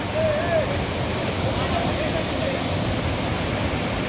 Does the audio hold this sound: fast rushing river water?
yes